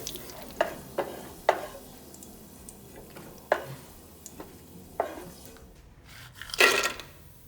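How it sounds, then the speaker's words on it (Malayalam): Raisins fry in hot oil for a Kerala-style vegetable biryani, a soft steady sizzle broken by sharp scraping stirs at irregular intervals, with one louder burst of sizzling near the end. "ആദ്യം ഞാൻ മുന്തിരിങ്ങ ഇട്ട് കൊടുക്കുകയാണ്"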